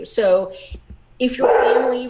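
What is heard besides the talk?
excited dog barking before getting food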